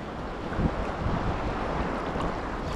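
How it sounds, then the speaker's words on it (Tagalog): Big ocean waves roll onto a shore during a fishing trip, a steady, loud wash of surf mixed with wind buffeting the microphone, with no voices. "medyo malalaki na yung gulong ng alon"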